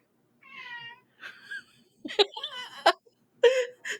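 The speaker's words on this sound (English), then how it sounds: "There's a cat somewhere." A cat meowing somewhere nearby during a night of ghost storytelling, several short tonal meows spaced through the moment amid brief laughter-like bursts, moderately loud against quiet.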